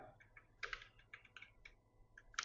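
Typing on a computer keyboard while writing Python code, with quick irregular clusters of close, crisp key taps over a quiet room.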